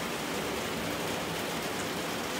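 Steady, dense rain falls outdoors during a fishing outing with French bulldogs, a uniform hiss that fills the whole moment without pause.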